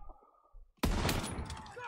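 A sudden burst of gunfire in the Call of Duty WWII video game erupts after a quiet, muffled stretch, then holds as a loud, sustained barrage of overlapping shots.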